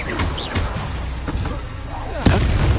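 A Confringo blasting spell in a video game sets off an explosion: a sharp, loud blast near the end, preceded by a busy mix of smaller impacts and crackles, with a voice intermittently present.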